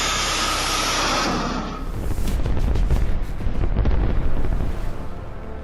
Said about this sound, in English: The cluster munition explodes